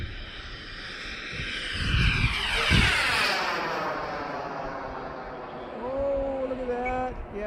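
Light foam RC F5 jet with a small turbine flying overhead at full throttle, a loud whining roar sweeping down in pitch as it passes, with voices talking beneath it.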